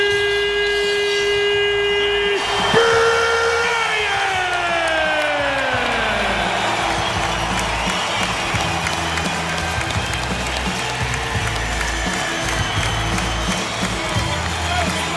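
Arena crowd cheering at an NBA game at Quicken Loans Arena in Cleveland, a sustained roar and applause under a descending siren-like horn tone early on, with an announcer's voice over the din.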